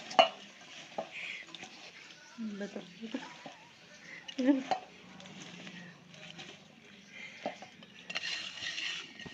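Leftover masala fries in oil for a green chili pickle, giving quiet stirring and occasional utensil clinks against the pan, partly under a person talking.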